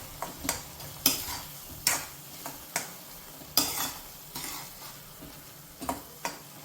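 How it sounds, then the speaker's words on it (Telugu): A spoon stirs tomato chutney seasoned with turmeric and chili powder in a pan on a stove, giving a close, soft sizzle broken by regular scraping and clinking strokes against the pan, alone with no talking. "ఇప్పుడు బాగా దగ్గరగా కలుపుకుందాం."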